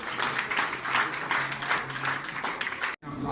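Warm applause from a seated audience at a museum event in Yerevan, a dense steady wash of many hands clapping together that cuts off abruptly near the end, followed by a short quieter tail.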